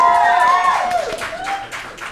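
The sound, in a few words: applause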